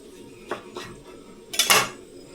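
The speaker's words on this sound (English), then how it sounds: "we can cut across it crosswise into little bundles" A knife slices through rolled-up spinach leaves crosswise into small bundles for chicken udon soup: two light cuts, a pause, then a louder quick pair of chops against the board, close and with no talk.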